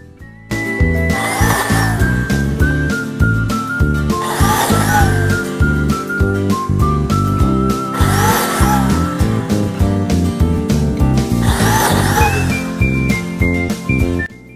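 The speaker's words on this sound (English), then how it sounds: "let me drill these, not drill, but biscuit these 4 other slots" A biscuit joiner whines steadily while four evenly spaced cutting bursts chew slots into wood, each lasting about a second, close up.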